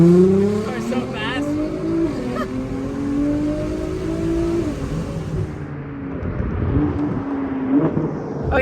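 Supercar accelerating, its engine note climbing in a loud rising drone with gear-like shifts, heard from close by beneath people talking.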